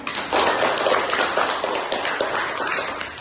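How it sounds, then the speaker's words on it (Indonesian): A room full of people at a school madrasah award presentation clapping, a dense steady patter of applause close by, lasting for a few seconds. "kita beri tepuk tangan untuk kita semuanya"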